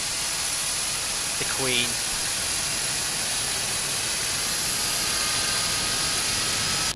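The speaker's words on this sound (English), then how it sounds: "So just popping back here to get the engine started" Jet engine of a Boeing 747-200 spooling up in the X-Plane 12 flight simulator, a loud steady roar and hiss with a brief rising whine early on, heard from outside the aircraft as a short phrase of speech passes.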